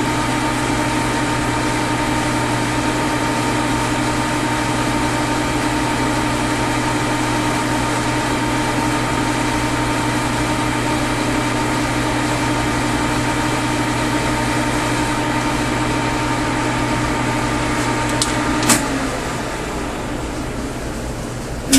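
A machine tool makes a slow-feed final cut on a bearing stud for an eccentric bearing stud adjuster, giving a steady, loud mechanical hum with constant tones that shifts slightly near the end.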